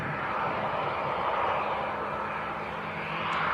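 A TUI Boeing 737-800 airliner departing Leeds Bradford Airport, a steady broad jet roar at a distance that holds level throughout with no voices over it.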